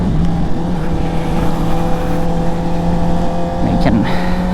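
CFMOTO 500SR four-cylinder motorcycle engine screaming under steady load while riding, a continuous high droning roar with wind noise and a brief rising rev near the end.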